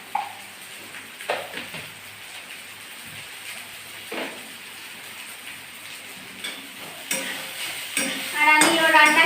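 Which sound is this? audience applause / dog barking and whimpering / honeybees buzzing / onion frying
onion frying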